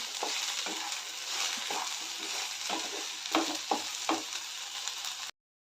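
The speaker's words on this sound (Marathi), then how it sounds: "अजून एक दोन मिनटं फ्राय करून घेऊया" Sliced okra (bhindi) fries in a pan with a steady crackling sizzle, punctuated by a few sharper scraping stirs near the end before it cuts off abruptly.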